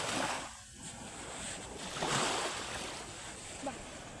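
Sea waves wash onto a beach, a steady broad rush of surf with gentle swells and some wind buffeting the microphone, fairly faint and continuous.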